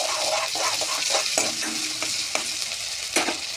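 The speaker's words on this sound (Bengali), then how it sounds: "আদা বাটা দিয়ে তেলের সাথে মিক্স করে নেবো" Ginger paste and onions frying in oil, stirred in a pan: a steady bright sizzle punctuated by regular scraping strokes of a spoon, close and fairly loud, with no voices.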